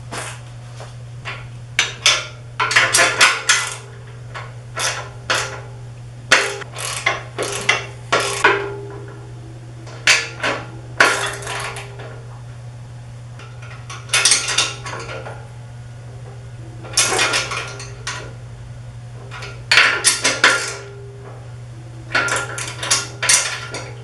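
Bolts being tightened on an arm of a Ranar Elite 6 color 4 station screen printing press, repeated metallic clinks and ratcheting bursts in irregular clusters over a steady low hum, no talk.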